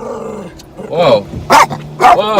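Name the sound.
dogs barking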